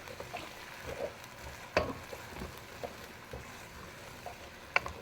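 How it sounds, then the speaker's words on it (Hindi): Chicken fries with ginger, garlic and green chili paste for salan, giving a quiet, steady sizzle broken by a few soft stirring scrapes and clinks, with no talk. "इसके साथ चिकन को अच्छे से फ्राई करेंगे"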